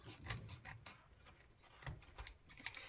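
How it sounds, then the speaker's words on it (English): Scissors snip through deco mesh ribbon for a farmhouse wreath, a series of quiet, crisp rustling cuts in an uneven rhythm, close by and soft, with no talking. "I'm going to take my scissors and come down about 3/4 of an inch and then cut up to that corner."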